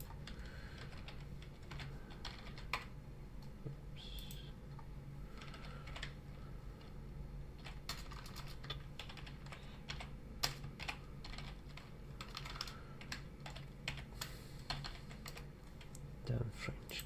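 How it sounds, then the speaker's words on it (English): Fast, uneven clatter of keys on a French computer keyboard while building a level in the System Shock 2 editor, close and fairly quiet, with occasional louder key strikes through most of the stretch. "Damn French keyboard."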